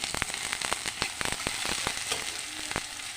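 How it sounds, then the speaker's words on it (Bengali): Chopped onion, ginger and green chili fry in a hot pan, giving a steady close sizzle dotted with many sharp crackling pops throughout, with no talk. "পেঁয়াজগুলো হালকা ভেজে নিয়েছি আদা কুচি লঙ্কা কুচি দিয়ে দিলাম"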